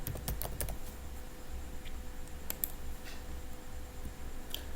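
Quiet, close computer keyboard typing with a quick burst of keystrokes at the start, then scattered clicks against a faint background hum.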